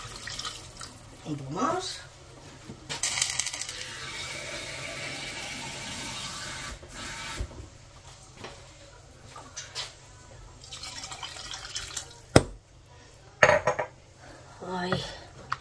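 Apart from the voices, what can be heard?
water poured into a pot to cover pork ribs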